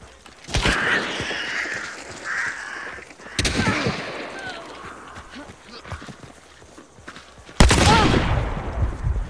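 Gunfire in the video game Hunt: Showdown, with three sharp, loud shots spaced several seconds apart, each followed by a ringing tail, while quieter game ambience continues between them.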